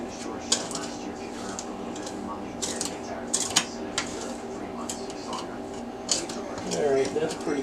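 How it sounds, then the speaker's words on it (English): Pastry blender scraping and clinking against a bowl while stirring flour and two cups of sugar, a steady run of light metallic taps and scrapes with sharper clicks scattered throughout. "Stir that up with my pastry blender,"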